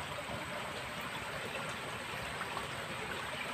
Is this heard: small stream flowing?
yes